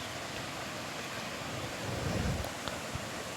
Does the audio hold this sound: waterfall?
yes